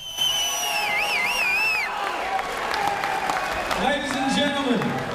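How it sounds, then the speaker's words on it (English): A crowd at a featherweight title fight applauds and cheers, with whoops and shouts rising over a dense roar, and voices call out in the mix. "give them a big round of applause here"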